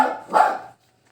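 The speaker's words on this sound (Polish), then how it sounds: "mój pies szczeka" A pet dog barks twice in quick succession indoors, close and fairly loud, then falls silent.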